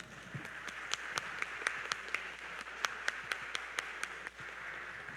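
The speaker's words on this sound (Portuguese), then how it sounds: "Com a salva de palmas, vamos?" A church congregation applauds a winner with faint, sparse clapping, individual claps standing out in an uneven rhythm against a quiet room.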